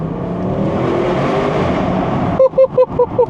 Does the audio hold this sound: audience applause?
no